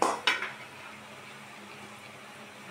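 Two quick metallic clinks of a utensil against a cooking pot while squash is stirred for ginataang sitaw at kalabasa, followed by a faint steady simmer with no talking.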